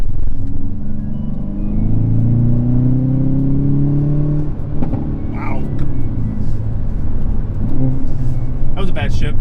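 A Hyundai Veloster N engine drops through a quick downshift on a winding road, a loud steady in-cabin drone with rising and falling pitch sweeps, a person talking over it.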